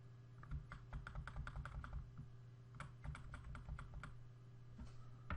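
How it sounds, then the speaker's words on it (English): Computer keyboard keys tapped repeatedly, the left arrow key pressed to nudge an object along, giving quick bursts of close, light clicks with short pauses between them over a steady background hum. "I'm going to slide it over using the left arrow key on my keyboard"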